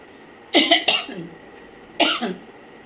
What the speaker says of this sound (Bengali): খুসখুসে কাশি কিন্তু হয়েই যাচ্ছে আমার